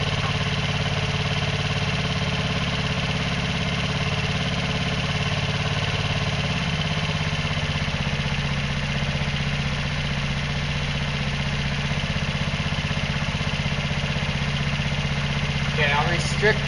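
A hydrogen-powered scooter engine runs steadily and loud up close for the whole stretch, a constant droning idle with a dense buzzing tone that stays even throughout.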